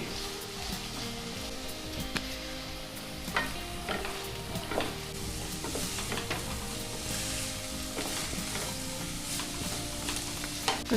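Carrots and beans stir-fry in a hot pan for veg Hakka noodles, giving a steady sizzle broken by repeated scraping and tossing sounds from stirring, close up with no talking.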